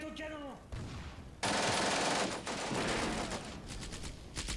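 Gunfire in the Combat Mission Beyond Overlord battle game between French and German forces, with dense fusillades of rifle and machine-gun fire, loud and sustained, over faint background game sounds.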